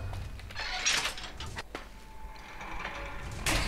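A door sliding open in Fallout: New Vegas, a mechanical whoosh and clunk heard close up with no talk, set against low game ambience.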